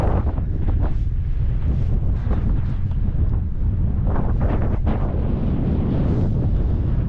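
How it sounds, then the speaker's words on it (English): Strong wind on a Lake District mountaintop buffets the microphone, a loud, continuous roar with repeated gusts and rumbling bursts across the whole stretch, and no voices. "This wind ain't giving up."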